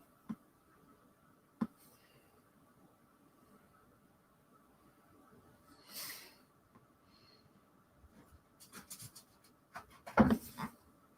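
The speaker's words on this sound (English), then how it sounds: "Fucking dog." A dog pants and snuffles faintly in a quiet workshop where an airbrush compressor is being set up, with breathy bursts and a few sharp knocks growing busier toward the end.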